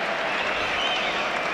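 Football crowd at a Brighton versus Burnley Championship match, a dense wash of noise and scattered clapping, loud and continuous, with indistinct voices mixed in.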